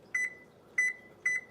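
Three short electronic beeps come from an oven's control panel as the temperature is set, each a clear, bright double-chirp spaced about half a second apart, close and alone in a quiet kitchen.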